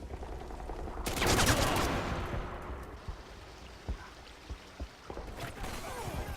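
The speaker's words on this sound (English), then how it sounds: "George keeps on shooting me" Video game gunfire comes as a loud burst of rapid shots, then scattered single cracks and pops that fade away across a quieter stretch, with no voices.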